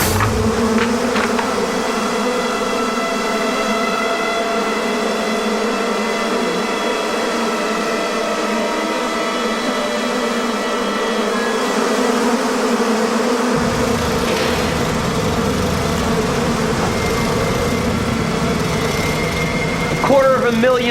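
Bees buzz in a continuous, droning hum that stays loud and steady throughout, with a deeper rumbling layer joining partway through and a faint click near the end.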